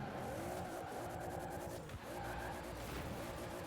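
A 1600-horsepower GT86 drifts in the Forza video game, its engine roaring loudly with squealing tyres throughout, briefly dipping near the middle before the skid resumes.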